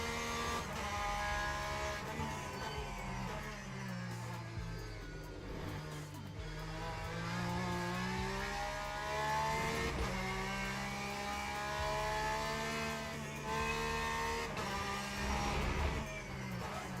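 Race car engine from the Le Mans Ultimate sim racing game, a steady loud drone that rises and falls through gear changes and revs, continuous for the whole stretch with no voices.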